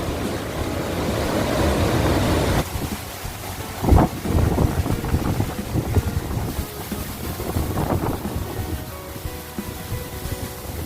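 Strong wind buffets a cliff edge at the Wat Chetiyakhiri Wihan (Wat Phu Tok) temple, a loud, steady roaring rush that swells in gusts throughout, with no voices.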